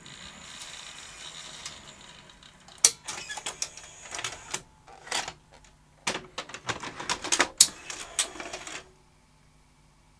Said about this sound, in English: let's exercise that tape changing a few times